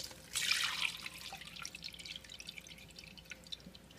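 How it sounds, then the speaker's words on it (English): Buttermilk from shaken homemade butter is strained, heard as a close, soft pour and trickle of liquid that thins into faint irregular drips; no talk. "I'm going to strain it in here"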